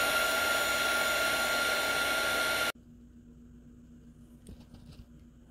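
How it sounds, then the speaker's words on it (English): A heat gun blows steadily for almost three seconds while drying watercolor paint on a hydrangea flowerpot painting, then cuts off abruptly and leaves near silence with a few faint handling sounds. "I am gonna go ahead and go with my heat gun and just start this drawing"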